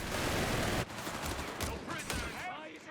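MG42 machine gun fire in the World War II strategy game Company of Heroes 3, a dense sustained burst of rapid shots with booming battlefield noise, loud and continuous, thinning slightly toward the end.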